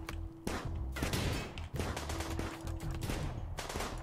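Gunfire from colonists shooting during a firefight in the Rimworld video game, with about six loud, dense bursts of rapid shots in quick succession and short gaps between them, with no talking.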